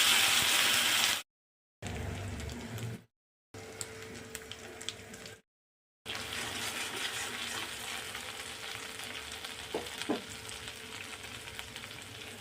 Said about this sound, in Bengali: আর বেটে রাখা আমার সর্ষে পোস্ত দিয়ে মশলাটা আমি ভালো করে কষে নেবো